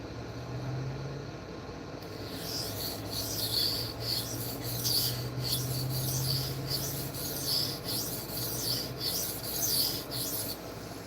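A steel blade is stroked repeatedly across a sharpening plate, giving rhythmic close scraping and rasping rubs at an even pace with a low hum underneath and no voices.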